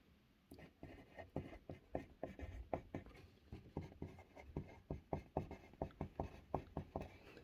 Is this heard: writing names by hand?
yes